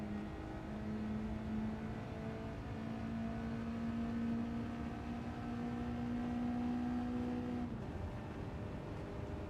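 A car engine in a racing game time trial holds a steady high rev, a droning whine that climbs slowly in pitch, then cuts off abruptly near the end, with no talking.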